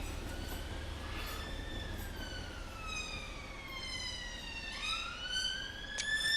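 Class 156 diesel train on the West Highland Line, heard with rising and falling tonal whines that glide and shift, plus a steady rumble that grows slightly louder toward the end.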